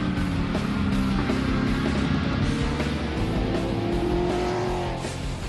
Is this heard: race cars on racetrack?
yes